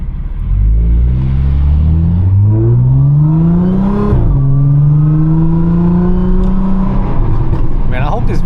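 A 500hp Audi S4 pulls hard on an interstate, its engine note climbing steadily through a long gear, dipping at a shift and rising again, loud and continuous, with voices talking over it.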